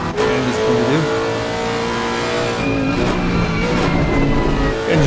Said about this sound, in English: Engine noises are pretty loud, especially this Lexus.